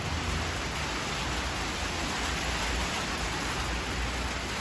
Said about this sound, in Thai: ตอนนี้ก็ดู สภาพฝนก่อนนะครับ